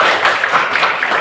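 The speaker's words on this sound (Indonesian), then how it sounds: "terima kasih tepuk tangan" Brief burst of steady clapping from a small group of students in a Hindu religion class, a dense patter of hand claps lasting about a second.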